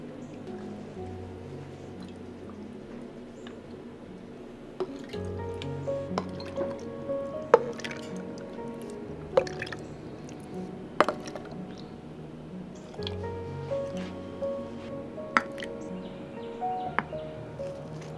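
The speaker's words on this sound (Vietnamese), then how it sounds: "mình đổ vào cho ngập thịt" Cooled brine poured into a jar packed with pork belly, a soft steady trickle with occasional clinks and drips of glass, fairly close and quiet.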